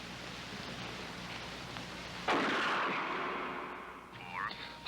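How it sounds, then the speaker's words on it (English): A single gunshot goes off in a film scene: one sharp, loud blast that hits suddenly midway and fades out in a long, reverberant tail over a quiet background. "Shoot Bobby, Raymond. Through the forehead."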